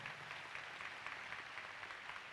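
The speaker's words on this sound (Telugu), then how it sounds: "గట్టిగా చప్పట్లు కొట్టి అభినందించాలి" An audience claps at a Hindi album release in Visakhapatnam, a faint, distant, steady wash of applause from a crowd that holds even throughout.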